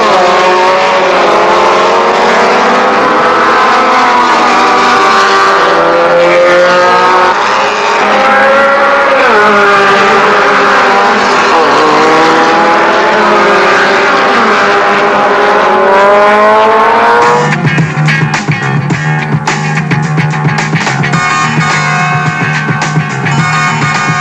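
A Renault R8 Gordini race car at the Castellet circuit in July 1970, its engine loud and close, revving with rising and falling pitch sweeps before shifting to a harsher, steadier drone near the end.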